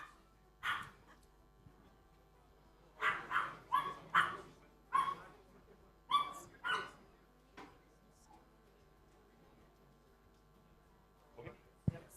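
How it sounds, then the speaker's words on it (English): A pet dog barks in a loose series of sharp, medium-distance barks during a Tesla robot event, a cluster in the middle and a couple more near the end, with quiet room sound between. "That's my dog."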